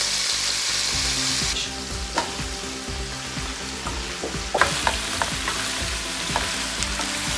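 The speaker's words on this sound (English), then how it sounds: "Brown them nicely." Meatballs brown in a frying pan with a steady, close, loud sizzle, broken by occasional scrapes and taps as they are turned, and no voices.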